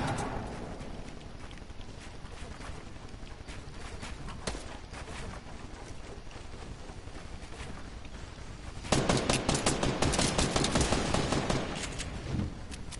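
Bursts of rapid video-game gunfire crackle in scattered volleys, growing denser and louder near the end, with footstep-like clatter between shots.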